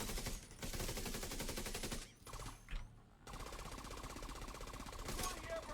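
Rapid automatic gunfire from the video game The Division 2, sounding as dense, continuous bursts with a short pause midway, then resuming at moderate loudness.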